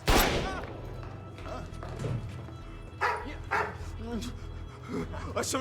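Search dogs in a TV drama scene bark in repeated bursts from a short distance, over a steady low rumble and background voices.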